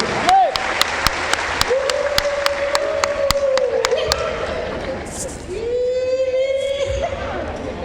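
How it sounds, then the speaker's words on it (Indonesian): A church congregation gives loud applause at a sermon, with a steady, dense clapping that continues under a preacher's sustained shouting voice. "Berikan tepuk tangan yang meriah buat Tuhan."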